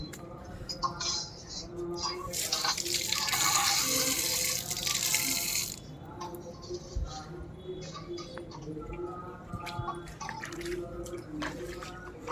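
Tap water runs and splashes in a steady rush while hands are washed at the entrance of the Emami Jagannath temple in Balasore, loud for a few seconds then easing into softer dripping amid faint background voices.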